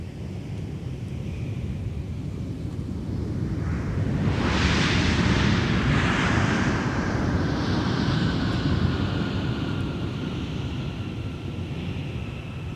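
A jet airliner at Minneapolis–Saint Paul airport roars past, its broad engine noise swelling loud over a few seconds then slowly fading under steady wind rumble, with no talk.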